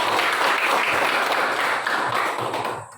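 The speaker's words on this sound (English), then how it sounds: "please give applause for group 1" Steady, dense applause from a classroom of students clapping together for a student group, sustained at full strength for about three seconds before starting to fade at the end.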